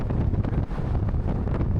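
Strong wind blows straight into the microphone outdoors on a long cross-country walk, producing a loud, continuous low rumble and buffeting for the whole stretch with no voice.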